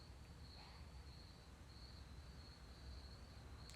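Steady, high-pitched cricket chirping fills a quiet night, a continuous trill at a distance with no other sounds.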